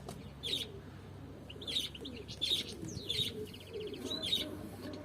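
Pigeons in a loft give a string of short chirping calls at intervals, over a low, steady cooing murmur, fairly close and moderately loud.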